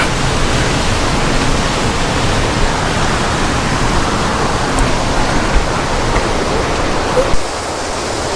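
A waterfall in the Badulla hills pours steadily, its dense rushing water making a constant loud wash close by with no pauses or other sounds above it.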